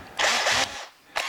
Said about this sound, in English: So I want to come in and drill those out just a little bit.